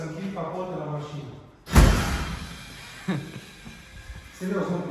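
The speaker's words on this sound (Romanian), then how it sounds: "Vreau să închid capotul de la mașină." A car bonnet is shut at a dyno session, a single loud slam with a short ringing decay and a smaller thump after, between stretches of nearby talk.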